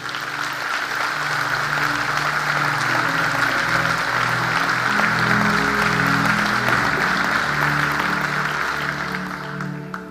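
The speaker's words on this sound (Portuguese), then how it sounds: "Dê um aplauso ao Senhor." A church congregation applauds, sustained dense clapping over held musical chords from an accompanying instrument, swelling in quickly and fading slightly at the end.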